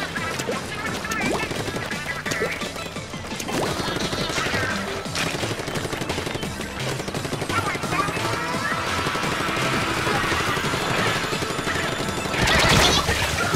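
Ink guns firing in the video game Splatoon during a Splatfest match, rapid and continuous bursts of shots with a dense, busy game mix throughout.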